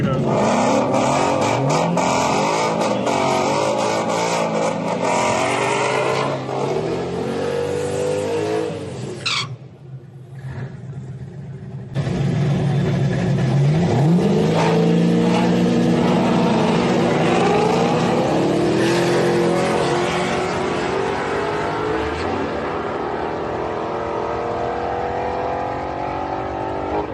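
Drag race car making a low boost pass, its engine roaring loudly and continuously with rising and falling pitch sweeps, a brief dip near the middle, then a sustained high-revving drone that gradually fades.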